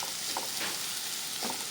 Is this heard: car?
no